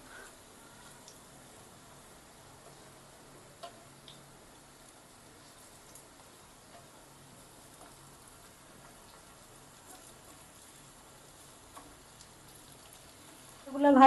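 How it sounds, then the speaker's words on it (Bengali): Pieces fry in a pan, turned over and over until red-brown, for a Bengali prawn-ball and ridge gourd curry, giving a faint, steady low sizzle with a few soft clicks, then a louder knock at the end. "এইভাবে উল্টে পাল্টে এরকম রেড ব্রাউন করে ভেজে নেব"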